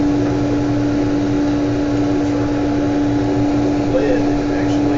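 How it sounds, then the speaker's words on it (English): A suction vacuum device used in a ballistics demonstration runs as a steady, loud mechanical drone with a constant hum throughout, and faint voices can be made out beneath it. "I'm gonna go ahead and take them out with this vacuum."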